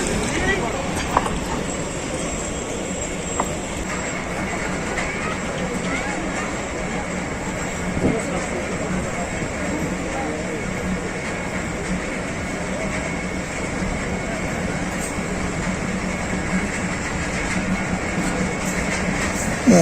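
A ZCU20 locomotive hauling a freight train on a Pakistan Railways line rumbles steadily as it pulls away, a continuous low drone of wheels and engine heard from nearby with faint clanks.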